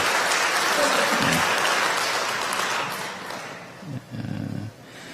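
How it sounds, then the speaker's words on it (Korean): A church congregation applauds in welcome during a Sunday worship service, steady clapping filling the room for about three seconds before thinning out, then a brief louder burst of clapping near the end. "여러분들 환영의 박수 부탁드립니다."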